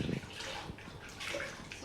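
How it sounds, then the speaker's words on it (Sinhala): Water sloshes and splashes in a basin while a baby is being washed. The sound is brief and close, with soft watery movement. "ඔන්න දැන් ඔල්ලේ සෝදන ඉවර වෙලා ආන්ටි අනිත් බේසනේ බබාගේ ඔළුව සෝදන්න හදන්නේ"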